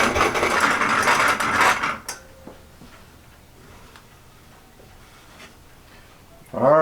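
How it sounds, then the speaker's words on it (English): A hand-cranked coffee grinder crunches whole beans in a dense, gritty burst for about two seconds, then goes quiet apart from faint clicks and handling noises, with a voice starting at the end. "Put some beans in there and start cranking and cranking."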